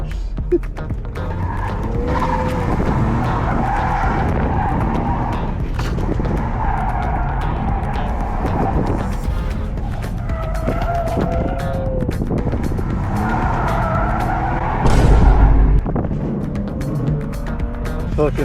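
A car drifting through linked turns around cones, its tires skidding and squealing continuously over a loud, revving engine for the whole stretch, with a sharper burst near the end.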